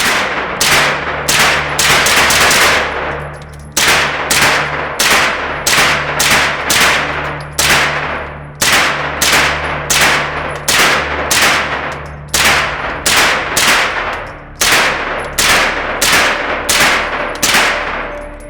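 Suppressed gunfire from a PSA AK-V rifle fitted with a Dead Air Wolfman suppressor, a loud run of sharp cracking shots in quick bursts and single strings, close up with metallic ringing between shots.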